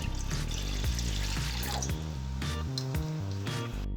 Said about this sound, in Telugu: ముందుగా స్టవ్ మీద ప్యాన్ పెట్టి కొద్దిగా వాటర్ వేసుకోవాలి.